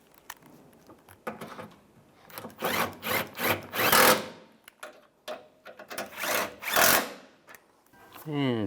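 Mirror bolts on a 2007-2013 Chevrolet Silverado 1500 are tightened with a ratcheting tool in a series of close, rhythmic grinding bursts, with rustling handling noise between them.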